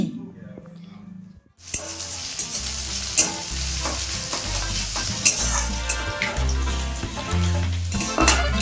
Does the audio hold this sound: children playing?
no